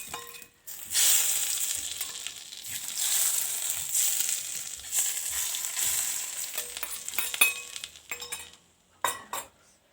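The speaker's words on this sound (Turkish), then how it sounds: "Tereyağımızı da erittik ve dönerimizin üstüne döküyoruz." Melted butter is poured over homemade İskender doner kebab, giving a bright, steady sizzle with a few utensil clinks and a pause before a final crackling burst, no talking.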